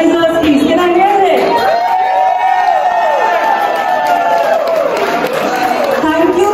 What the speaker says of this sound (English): I want to have a very, very big round of applause for the organizers, please